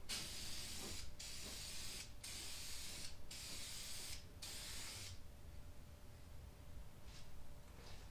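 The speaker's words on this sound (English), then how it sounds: "we'll come back to it in 10 minutes and spray it a second time" A spray can of headlight coating hisses steadily in four short bursts with brief pauses between, then stops, leaving a quiet room with a faint hum.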